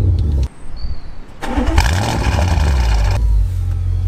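A warm 820 bhp methanol-injected Audi RS6 engine cranks and fires up loudly, settling into a steady, strong rumbling idle close by, with no speech over it.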